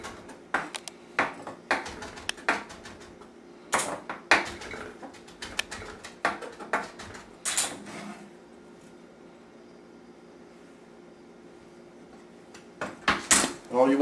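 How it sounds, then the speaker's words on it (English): A knife chopping parsley on a cutting board in a kitchen: irregular bursts of quick sharp taps, then a quiet stretch with a low hum, and a few more taps and clinks at the end. "Just chop up some more parsley."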